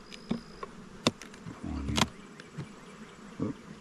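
Honey bees buzz around a nuc hive, passing close in brief loud swells against a faint background hum, with scattered sharp knocks and no talk.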